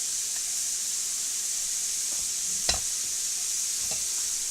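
Garlic frying in a pan with onion and pepper gives a steady, even sizzle, with one sharp clink of a utensil against the pan partway through.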